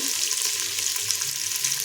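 Salted onions fry in AMC cookware, giving a steady, close, even sizzle that holds for the whole stretch with no voices.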